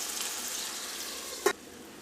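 Chicken frying in masala over a medium flame gives a soft, steady sizzle, close and even, broken by one short sharp clatter or tap near the end.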